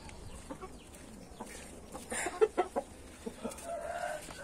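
A rooster in a backyard aviary lets out a short run of faint clucks, a few sharp calls bunched together midway against quiet surroundings.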